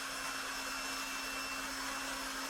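A Lefant F1 robotic vacuum cleaner runs with a steady, even whir and a constant tonal hum, a faint, unbroken motor drone throughout with no voices.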